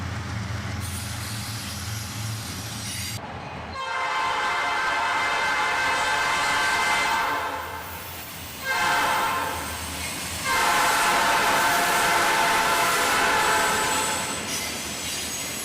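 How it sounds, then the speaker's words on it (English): A long auto-rack freight train with two mid-train DPU locomotives rumbles past nearby, steady wheel noise and rail clatter with surges in loudness as heavier sections roll by. "And check this out, 2 mid-train DPU locomotives."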